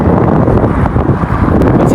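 Strong wind buffets the microphone outdoors on a sunny day in Russia, a loud, continuous low roar with no breaks.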